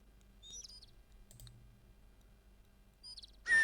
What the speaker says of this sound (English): Oh, I do love the sound of birds.